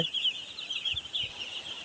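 Five-day-old chicks on a rain-soaked poultry farm give rapid, faint, high peeping calls in a continuous overlapping chatter, with soft low thumps underneath.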